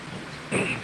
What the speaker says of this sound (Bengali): বৃষ্টির মধ্যে দেখেন